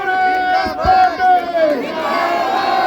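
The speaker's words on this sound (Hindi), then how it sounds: "भाई अनिल चौधरी जी मैं चाहूंगा जोर से तालियां बजाओ, तालियां बजाओ" Crowd at a Congress party political rally in Sukh Vihar gives a loud, close roar of many voices shouting and chanting together in sustained bursts, rising and falling over a few seconds.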